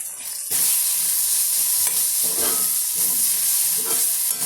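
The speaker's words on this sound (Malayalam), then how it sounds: "നന്നായിട്ട് മിക്സ് ചെയ്ത് കൊടുക്കാം" Masala with a pinch of turmeric stirred in a hot frying pan, a steady close sizzle with repeated scraping strokes of a spoon, no voices.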